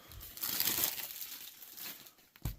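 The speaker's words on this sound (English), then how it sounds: "Take the factory seal off." Crinkly plastic factory seal torn and peeled off a 2024 Topps baseball card set box after being sliced with scissors, a close crackling rustle that swells and fades, ending with a sharp rip.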